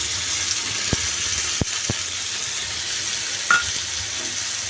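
Onion and green chili paste sizzling in a hot pan, a steady bright frying hiss with a few sharp clinks and scrapes of a spoon stirring.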